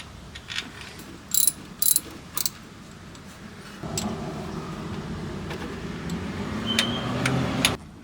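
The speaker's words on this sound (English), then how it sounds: "use the cam holder tool to tighten the bolt down" A ratchet tightens the cam sprocket bolt on a Mitsubishi 4G15 engine: a few quick clicking bursts, then a steady run of close ratcheting clicks over faint background noise.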